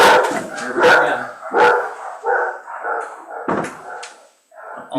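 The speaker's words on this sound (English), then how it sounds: "Almost certain they're not barking at anyone who's actually there." Several dogs bark in repeated bursts, loud and close, with brief pauses between volleys and a short lull near the end.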